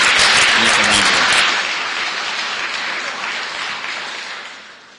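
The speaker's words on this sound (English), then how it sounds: "So please, another big round of applause for the leader here, Lisa Ranger." Loud audience applause at a Dr Martin Luther King kickoff event, honouring a leader: a dense burst of clapping right at the start that gradually fades over the following seconds.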